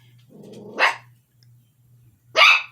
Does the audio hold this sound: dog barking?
yes